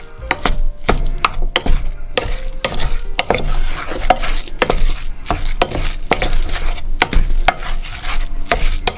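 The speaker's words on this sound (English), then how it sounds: "let's add the tofu to that. Right, we'll stir that in." Tofu being stirred into a tomato paste mixture for a vegan filo pie, with a steady run of scraping, clattering spoon strokes and a soft sizzle close by, no talking.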